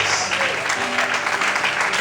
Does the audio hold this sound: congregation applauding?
yes